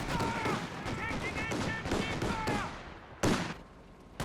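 Machine gun bursts crackle in a Company of Heroes 2 1v1 match, quiet and scattered, mostly under a commentator's talk, with one sharper burst near the end.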